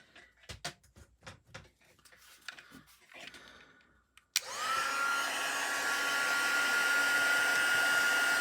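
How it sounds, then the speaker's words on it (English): A heat tool blasts hot air to dry a card: after a series of light taps and handling clicks, a sharp click starts a loud steady blowing roar that continues to the end. "now we're going to bring in our heat tool and just give this a little bit of a blast"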